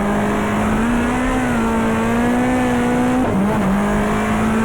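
Race cars at Oran Park in a 1994 GTR2 Australian Manufacturers Championship race, with a loud, sustained engine whine holding steady, then a sharp dip and recovery as a gear change or lift comes through.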